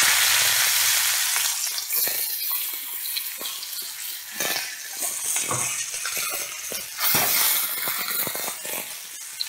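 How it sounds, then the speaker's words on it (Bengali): Chunks of ash gourd sizzle and crackle in hot oil with reddened cumin seeds, a loud, continuous frying hiss with bursts of spattering and stirring, close up and without speech. "তেলটা গরম হয়ে গেছে, জিরেগুলো লাল হয়ে গেছে। এবার আমি চাল কুমড়োটা দিয়ে দেবো।"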